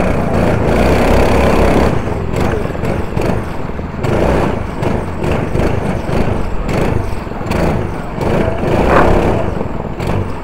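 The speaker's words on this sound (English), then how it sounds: "Start the engines." Several racing car engines start up and run loudly and steadily at a British 24 hour endurance race, with dense, overlapping engine roar throughout.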